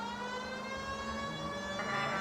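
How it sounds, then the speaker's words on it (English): A wailing police car siren from L.A. Noire holds a sustained, slowly shifting tone, loud and close over low engine rumble. "Yeah, put that siren on"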